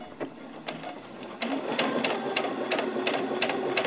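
A sewing machine stitches just inside the seam allowance, starting with a few slow separate needle strokes, then settling into a steady rapid chatter of stitches, close and clear.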